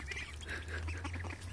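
Backyard ducks taking their first steps outdoors quack steadily and close by, a dense overlapping chorus of calls with no talking.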